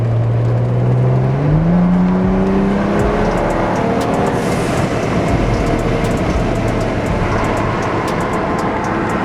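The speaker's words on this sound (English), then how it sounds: "At those shift points, let go of the gas and you'll hear the blow-off valve a lot louder." A turbocharged car accelerates hard through the gears, engine pitch climbing in rising sweeps with audible shift breaks; a TurboSmart blow-off valve vents with a hissy release between shifts, loud and continuous, with no talk.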